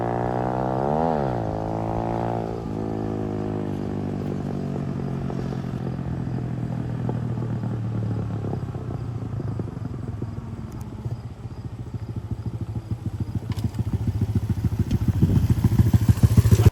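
A dirt bike engine runs steadily with a low putter, revs up once early on, then idles with a rattling clatter that grows louder toward the end.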